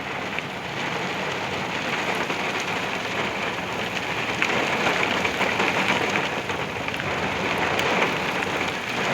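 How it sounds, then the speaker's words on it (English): Heavy rain pours down steadily as a derecho storm rolls in over Oklahoma with gusty winds, a dense continuous hiss of drops on surfaces, close and unbroken. "it started raining some"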